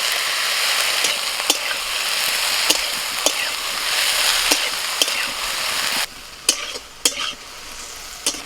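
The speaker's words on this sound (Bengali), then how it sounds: "ফোড়নটা ভেজে নিয়ে টক ফলের পাপড়িগুলো দিয়ে দিচ্ছি" Dried red chillies and black mustard seeds tempering in hot oil sizzle in a loud, steady hiss, broken by a few sharp clinks as tamarind pieces go into the pan, after which the frying quietens.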